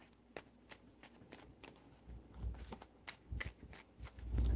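Tarot cards are shuffled by hand in a quiet room, with several crisp riffling bursts coming in quick uneven succession, close and fairly soft.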